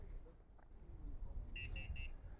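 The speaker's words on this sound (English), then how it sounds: "we're just going to get a warning." Proximity warning from a 2025 Ford Transit Custom MS-RT alarm system: three short, clear electronic beeps in quick succession over a low outdoor rumble.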